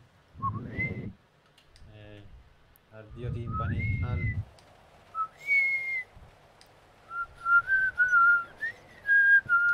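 Someone whistles over game voice chat during a GTA V FiveM roleplay session, a series of short rising and sustained whistled tones, fairly close, alternating with bursts of talk and keyboard clicks.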